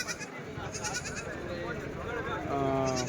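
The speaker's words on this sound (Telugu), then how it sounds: "పొటేళ్ళు మేకలు మేకపోతులు గొర్రెలు ఎక్కువ వస్తాయండి" Goats and sheep bleat among the crowd at the Tuesday livestock market in Kadiri, with several calls breaking through a steady din of people talking and moving about, including a clearer, longer bleat near the end.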